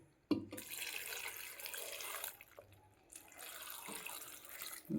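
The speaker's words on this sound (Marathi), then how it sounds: "तर आता आपण पाणी टाकून घेऊया." Water pours into a cooking pot for sambar made with dal and eggplant, a steady splashing gush running through most of the clip with a short pause in the middle, close and fairly loud.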